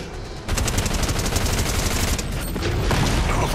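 Rapid automatic gunfire crackles almost without pause in a Fortnite match, loud, close and dense after a brief quiet start.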